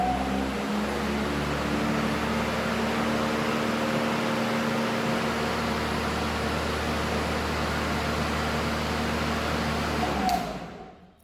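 A Makita DLM532 battery lawn mower runs with a steady, even whir and motor hum, holding constant before cutting off abruptly near the end.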